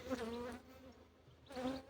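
Queenless Anatolian honey bees at an open hive buzz close by in two brief swelling bursts, a droning hum that fades between them.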